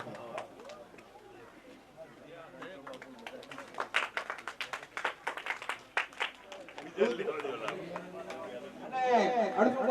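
Crowd at a rural welcome ceremony for a visiting politician breaks into bursts of clapping and cheering under steady talk, building in the middle and swelling again near the end.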